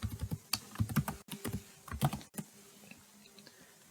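Keys clatter on a computer keyboard as a file name is typed in a code editor, quick irregular close clicks in short bursts, easing into lighter taps toward the end, with no talking.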